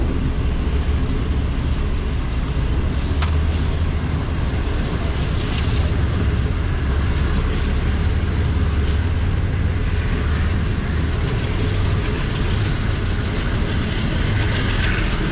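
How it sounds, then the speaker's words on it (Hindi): A train rumbles steadily and loudly past at close range as it moves slowly through Sahiwal railway station in Pakistan, a continuous heavy roar with faint rattling throughout. "आप देख सकते हैं कि ट्रेन कितना स्लो पास कर रही है"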